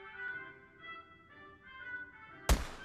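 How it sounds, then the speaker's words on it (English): A single sharp knock on a window in a teenage-romance video game, landing near the end after a stretch of quiet tonal game music. "Knock on the window of the one you like"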